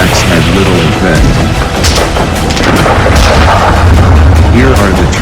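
Artillery fire pounding the Moselle forts in the Second World War, heard as dense, continuous booms and crashes rolling together throughout, with a voice faintly mixed beneath the barrage.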